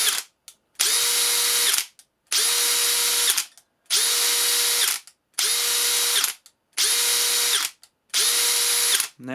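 A Makita cordless hammer drill runs in six even bursts, each about a second long, separated by short pauses, close and loud.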